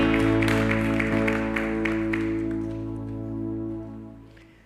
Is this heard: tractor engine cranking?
no